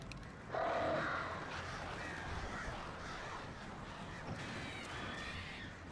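Crows caw in the horror video game Alan Wake on PS5, a harsh call rising over a steady ambient wash, with fainter bird noises following.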